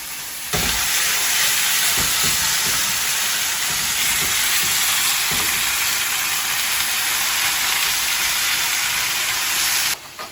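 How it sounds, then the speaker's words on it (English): Two pounds of ground beef sizzle loudly and steadily in a hot pan, a dense continuous hiss with a few sharp pops, close to the microphone. "we drop our 2 pounds of ground beef into the pan and start frying"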